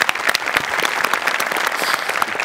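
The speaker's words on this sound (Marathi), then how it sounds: "जोरदार टाळ्या" Enthusiastic studio audience applause at a Marathi comedy show, a thick, continuous patter of many hands clapping at a steady, loud level throughout, with no voices over it.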